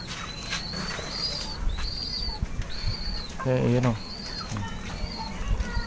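Birds chirp repeatedly in short bursts while a brief flurry of flapping wings sounds midway as a pigeon lands on a roof; a person speaks a few words nearby.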